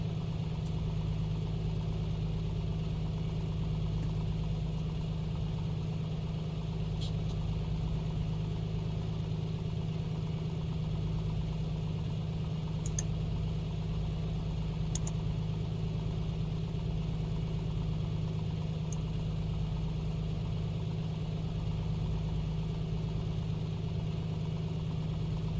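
Piston aircraft engine of an A2A Piper Comanche 250 in a flight simulator, idling at about 1,000 rpm: a steady, droning low hum that holds constant for the whole stretch, alone with no voices and only a few faint clicks.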